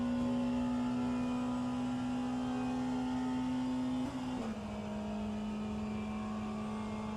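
A McLaren race car engine in a racing video game screams at high, steady revs, then the pitch dips briefly and settles slightly lower before holding on, loud and alone without talk.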